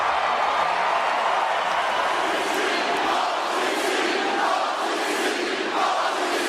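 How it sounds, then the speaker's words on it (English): Wrestling crowd cheering loudly and continuously, a dense roar of voices that stays steady throughout with a few swelling surges. "Even with everyone in attendance cheering him on, Roman Reigns is walking to his death."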